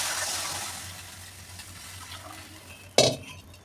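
Water splashes into a hot pan of fried homemade black masala and red chilli masala for a fenugreek usal, giving a hissing sizzle that slowly fades, followed by one sharp metal clink near the end.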